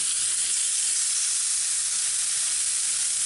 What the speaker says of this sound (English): here comes the sheephead super smoking hot pan